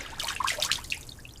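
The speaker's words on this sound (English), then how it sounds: "the water is dripping straight through the wooden floor into the living room" Water trickling and dripping through a wooden floor into a living room below, a faint, irregular patter of drips and small splashes heard alone at low level.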